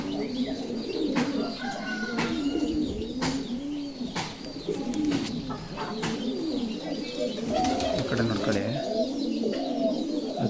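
Giribaz pigeons coo repeatedly in a loft, with soft overlapping calls and a few sharp wing flaps or clatters, fairly close. Some human voices are mixed in.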